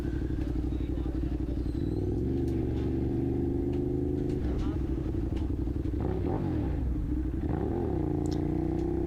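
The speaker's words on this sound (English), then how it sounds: "Right now I'm driving around the circle of Oval Park" A car circles Oval Park in the Bronx, New York, on a warm spring day. A loud, steady engine drone runs throughout, with revs rising and falling as it drives.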